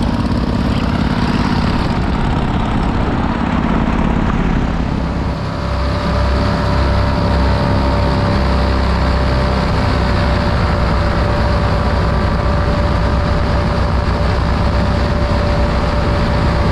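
A helicopter runs loud and close from start to finish with a steady rotor and engine drone, building slightly after the first few seconds as it lifts off, no talk.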